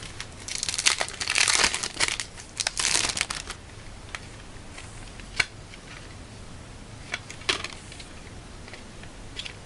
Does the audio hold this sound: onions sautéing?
no